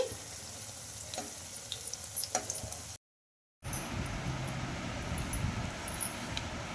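Bottle gourd bajji fritters frying in hot oil, a steady close crackling sizzle with small pops, briefly cut to silence midway before the sizzling resumes.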